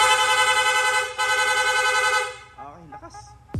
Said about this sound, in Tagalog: magsusunod-sunod na po yan, rapid horn.